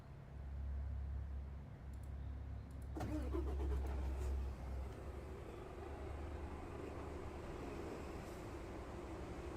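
Truck and bus traffic engine sounds in the multiplayer driving game TruckersMP near a busy merge point switch on partway through, a loud engine rumble followed by a continuous mixed traffic drone.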